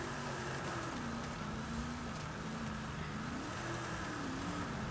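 A Forza Edition hot rod in Forza Horizon 5, converted to all-wheel drive, drones with a steady engine tone that rises and falls gently as the revs shift, constant and moderately loud with no break.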